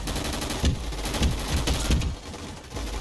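Rapid gunfire in a Roblox shooting game, loud and close, with repeated sharp volleys and short bursts running throughout, little pause between shots and no talk over it.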